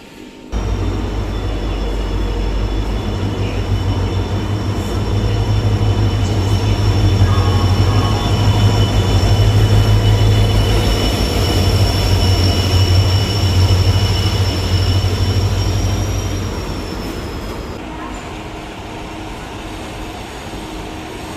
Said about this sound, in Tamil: WAP1 ஈரோடு தான் பார்த்தீங்கன்னா இன்றைக்கி ஈரோடு திருநெல்வேலி எக்ஸ்பிரஸை புல் பண்ணிகிட்ருக்கு.